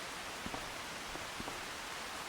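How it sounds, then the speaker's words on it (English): Steady video game rain hisses evenly as a dense wash of noise, with a few faint droplet taps scattered through it and no voices. "That sounds like rain."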